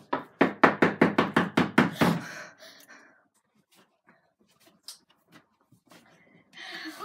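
A rapid series of about ten firm knocks on a door, loud and close, followed by quiet rustling and faint breathing, then a brief burst of movement at the end.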